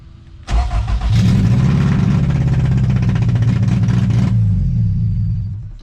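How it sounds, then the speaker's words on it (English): A Toyota MR2 engine cranks and catches, settling into a steady, lumpy, lowered idle for several seconds before the rumble drops away as the engine stalls, with no talking. "now when I start the engine, it idles a whole lot lower."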